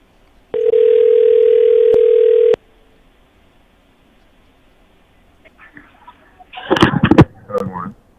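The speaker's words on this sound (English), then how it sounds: "As Fat Fingers dials away, they tell me when the phone ring, keep quiet" A steady dial tone sounds for about two seconds, followed by quiet, then a burst of rapid touch-tone dialing beeps on a telephone during a live morning radio call-in show.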